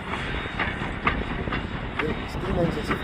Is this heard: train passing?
yes